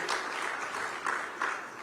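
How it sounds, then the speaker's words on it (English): Audience applause fills a conference hall at the India Today Conclave in Mumbai, a dense, steady patter of many hands clapping with a few louder swells over about two seconds. "let's of course give Team ISRO and India as well a huge applause for Chandrayaan-3 success"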